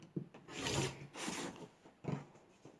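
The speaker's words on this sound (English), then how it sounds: "you can just continue down your strip set, cutting the diamonds" A fabric strip set is cut into diamonds for a quilt block: three or four quiet, close, rasping strokes with short pauses between them.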